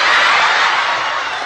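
A crowd at a religious lecture breaks into loud, dense applause and cheering, a broad wash of clapping that fades slightly toward the end.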